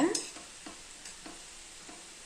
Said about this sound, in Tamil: எடுக்கிற கரண்டிலேயே நான் வந்து கிளறி விடுறேன்